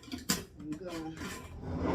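Half a cup of flour and half a cup of water being stirred in a bowl for a sourdough starter, giving faint scraping and rubbing strokes with one sharper clink, all close and quiet.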